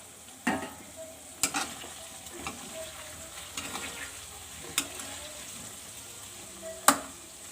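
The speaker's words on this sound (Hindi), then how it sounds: "चलिए सब्जियां हो गई फ्राई" Vegetables frying in a pan while being stirred, a soft, quiet sizzle punctuated by sharp spoon knocks and scrapes against the pan at irregular intervals, with no talking.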